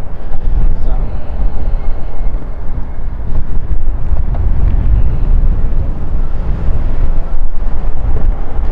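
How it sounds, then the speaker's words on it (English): Strong wind roars and buffets the microphone continuously, a dense rumbling gust noise with no letup. "It's a super, super windy day today."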